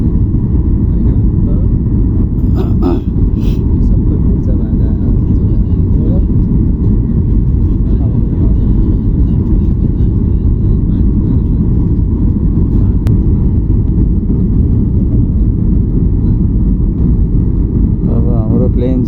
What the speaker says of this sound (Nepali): अब हाम्रो प्लेन चाहिँ ल्यान्ड गर्ने तर्खरमा छ